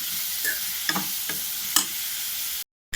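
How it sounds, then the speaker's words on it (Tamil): Onions sautéing in a pan for dried seer fish thokku, a steady close sizzle with a few soft clicks of a spoon stirring, cut off abruptly near the end. "ஸோ நீங்கள் இப்போதைக்கு ஜஸ்ட் வெங்காயம் வதங்குறதுக்கு மட்டும் கொஞ்சமாக ஆட் பண்ணிக்கிட்டு அதுக்கப்புறமா நீங்கள் பார்த்துட்டு உப்பு தேவைன்னா நீங்கள் ஆட் பண்ணிக்கோங்க."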